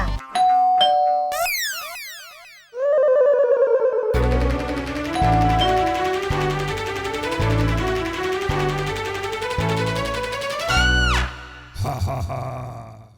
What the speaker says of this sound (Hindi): मुझे लगता है दरवाजे की घंटी बजेगी